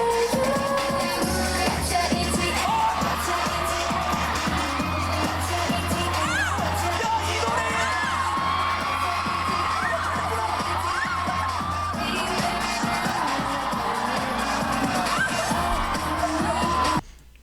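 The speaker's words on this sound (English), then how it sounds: "Dang, they screamed from that one." A dance battle crowd at a Red Bull Dance Your Style event in Korea screams and cheers loudly over pumping music with a steady beat, sustained for the whole stretch before cutting off abruptly at the end.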